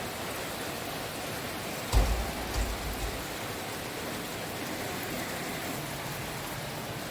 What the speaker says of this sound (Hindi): बारिश की आवाज़ कितनी हसीन लगती है, कितनी मज़े की लगती है बारिश की आवाज़।